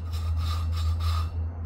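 A small mower engine valve is lapped against its cylinder head with grinding compound, giving a steady close rasping rub in repeated strokes, with a strong low hum running underneath.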